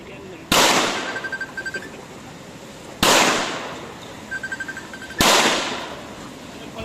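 Three loud, sharp pistol shots from a Taurus G3 handgun at a firing range, spaced a few seconds apart, each with a ringing decay and faint metallic clinks after.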